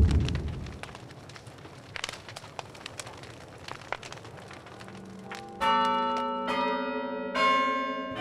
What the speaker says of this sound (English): Hear those bells? Those are the same bells that ushered in America's freedom in 1776.